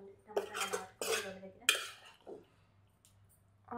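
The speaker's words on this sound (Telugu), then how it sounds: "టమాటా ముక్కలు కూడా వేసేస్తున్నాను" Tomato pieces tipped into a pan for tomato roti pachadi, heard as a few close clattering knocks and scrapes of utensil on metal with quiet pauses between them.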